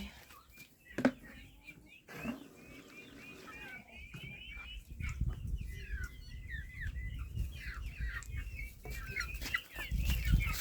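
A rooster and chickens cluck and chatter softly nearby in short repeated calls, with occasional louder squawks and background rustling and low noise.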